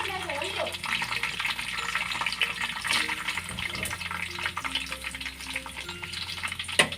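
Oil sizzles steadily in a pan before onions go in for Mangalorean chicken sukka, with occasional stirring scrapes and some background tones and a faint voice over the constant frying hiss.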